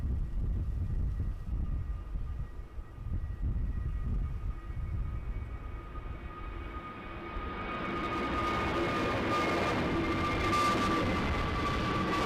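An EasyJet Airbus A320neo at Edinburgh Airport, bound for Lanzarote, gives a steady jet engine roar with a whining tonal hum that swells louder and brighter over the last few seconds, heard alone without talk.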